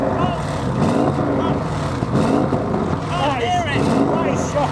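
A 2021 C8 Audi RS6 Vorsprung engine revs up to around 3,500 rpm, a deep, close-up rumble rising and falling a few times, with a voice talking over it.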